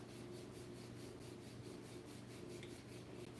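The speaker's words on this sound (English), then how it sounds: "I find peace in scrubbing sweet potatoes." Sweet potatoes being scrubbed by hand, a steady close rasping rub that runs continuously without pause over a low constant hum, with no voices.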